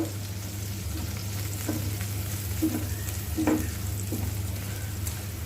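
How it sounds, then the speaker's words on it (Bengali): Onions frying in a pan for a Bangla-style tomato chili bharta, a steady close sizzle with occasional clinks and scrapes from stirring, no voices. "কিছুটা পেঁয়াজ ভেজে নিব।"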